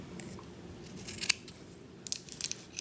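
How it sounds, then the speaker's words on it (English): Scissors snipping cotton wick material for an Augvape Druga V2 RDA vape atomizer, a few quiet crisp snips in two short bursts over a soft background hiss. "let's go ahead and get our scissors and cut some right here"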